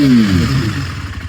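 A KTM RC 390 motorcycle engine fires up close by with a loud, rough burst that settles into an uneven idle rumble with light mechanical clatter.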